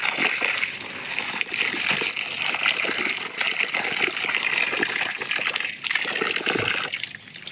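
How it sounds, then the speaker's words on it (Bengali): Running tap water gushes and splashes steadily over freshly cut small parshe fish being rinsed in a kitchen, a continuous close wash with slight sloshing, no talking. "একদম পেটেতে করে মাছগুলো ভালো করে ধুয়ে নিই"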